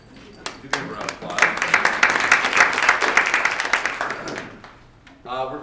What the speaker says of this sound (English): Give him a round of